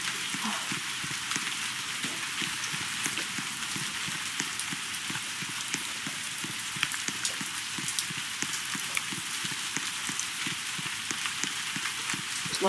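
Steady rain pours down in a Roblox Backrooms level 22 game environment, a dense, continuous hiss of drops on a hard surface lasting throughout, even and close with no talking.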